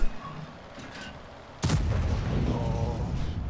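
A single loud tank cannon shot from an SU-130M in World of Tanks on the Malinovka map cracks out sharply, then a rolling boom tails off after a quiet stretch.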